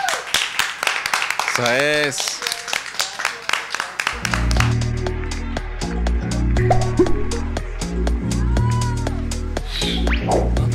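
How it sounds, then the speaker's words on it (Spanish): Scattered clapping from an audience with a brief voice over it, then music starts up and plays on beneath more sparse claps. "Un aplauso, por favor."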